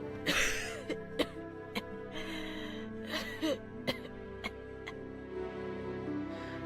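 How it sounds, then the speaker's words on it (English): An elderly grandmother coughs and clears her throat indoors, several short harsh bursts spaced irregularly over a steady background hum, close and fairly loud. "Suddenly, I heard my grandma coughing."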